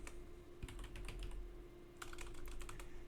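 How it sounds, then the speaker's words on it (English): Someone types fast on a computer keyboard, with two quick bursts of clicking keystrokes separated by a short pause over a low background hum. "Typing too fast."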